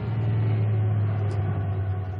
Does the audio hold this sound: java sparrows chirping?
no